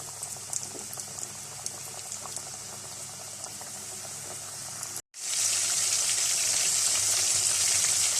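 Chicken pieces, coated for zinger shawarma, frying in hot oil, a steady loud sizzle and bubble that cuts out briefly and then returns louder as more pieces go in.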